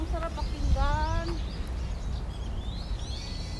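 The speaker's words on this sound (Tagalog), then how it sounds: "Naririnig nyo yung mga ibon? Tunog ng ibon. Mga huni ng ibon." Birds in a park under maple and cherry blossom trees chirp and whistle in short bright calls, moderately near, over outdoor ambience with some background voices.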